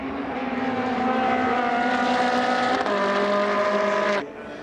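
Ferrari Challenge race cars roar loudly and steadily past on a circuit, their high-revving engines holding a sustained, layered whine that shifts pitch before cutting off abruptly near the end.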